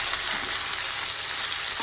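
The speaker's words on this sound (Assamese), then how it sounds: "বিলাহী দি পিনে অকণমান সময় ভালকৈ ভাজিম" Tomatoes fry in a pan for a jackfruit curry, giving a loud, dense, unbroken sizzle heard close up with no voices.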